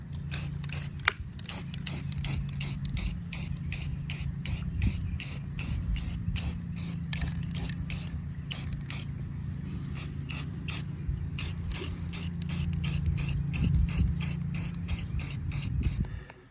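Black paint is sprayed onto a scuffed, reassembled gun in rapid repeated bursts, a crisp hissing spray pulsing steadily over a low background hum.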